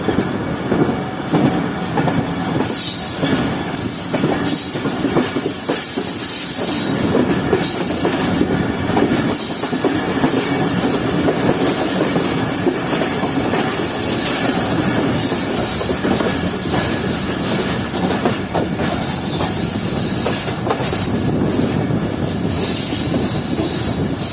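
Sir Syed Express pulling into Jhelum railway station on its first run after privatization, a continuous loud rumble of railcars with wheels squealing and clattering over the rails throughout, close by.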